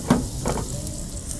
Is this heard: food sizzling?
yes